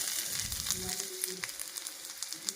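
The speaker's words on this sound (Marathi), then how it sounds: "पहिल्यांदा मी याच्यामध्ये लसूण टाकते एकदम लसूण बारीक केलेला आहे" Finely chopped garlic hits hot oil in a pan, giving a close sizzle with scattered crackles and pops that settle into a lighter spatter, with no talk.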